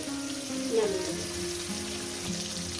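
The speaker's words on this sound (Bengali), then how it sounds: "এই পিঠটা এইভাবে লাল লাল করে ভেজে নেবো" Steady oily sizzling of fish frying in a pan, continuous and close, with a brief clatter near the start.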